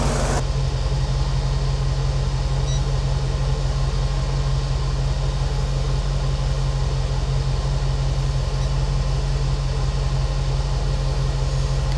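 A 4.6 Stage One V8 idles steadily at about 625 RPM with the bonnet off, a continuous low rumble with a constant hum that stays close and loud throughout, with no voices.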